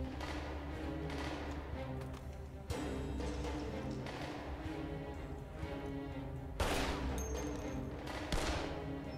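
Sustained automatic gunfire from a weapon in the video game The Saboteur, a dense rattle of rapid shots across the whole stretch with a couple of louder bursts, no voices over it.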